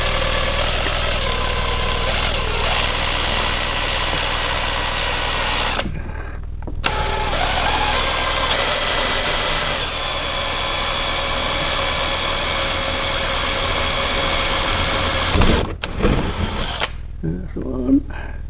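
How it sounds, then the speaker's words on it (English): Power drill boring holes through fiberglass while fitting a Land Rover Defender 90 headliner, a loud steady whine running for several seconds with short pauses between bursts, and speech also present. "I've got to drill 2 holes in this one, nice and steady"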